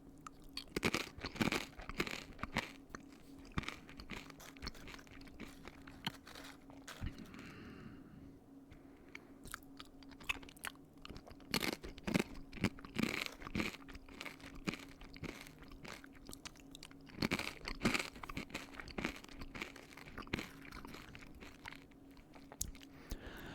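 Close, intimate chewing of a Lunchly snack with gooey cheese, with repeated crisp crunches and wet mastication sounds in irregular bursts, fairly quiet and with no talking.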